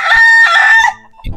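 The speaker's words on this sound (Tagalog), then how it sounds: "Ay, mga manok ni Papa" A farmyard rooster crows loud and close in one long call lasting most of a second, with chickens clucking softly right after, near a banana grove on a family farm.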